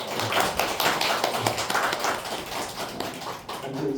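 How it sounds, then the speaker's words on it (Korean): At a Korean church Sunday service, the congregation claps to welcome new members, a close, lively patter of many hands with sharp individual claps standing out, steady and fairly loud. "우리 박수로 환영하겠습니다"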